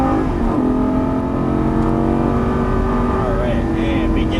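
Lamborghini Gallardo LP550 engine pulling hard after an upshift on a track, a loud sustained roar with steady harmonic drone climbing in pitch, close and continuous, with a driving instructor talking over it.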